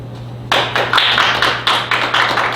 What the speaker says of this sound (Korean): 저에게 많은 박수 부탁드리겠습니다